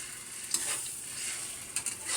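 Eggs and tomatoes stirred in a frying pan, a soft steady sizzle with a few light scraping strokes of the utensil, fairly quiet and close.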